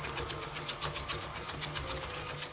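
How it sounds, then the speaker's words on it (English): An electric mixer beats eggs, sugar and vanilla extract for blondie batter, a steady rapid whirring motor hum with a fast pulsing rhythm, close and fairly quiet. "we're going to mix that through for a few minutes until it's all well combined"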